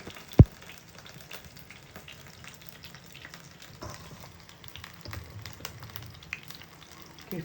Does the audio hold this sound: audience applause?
no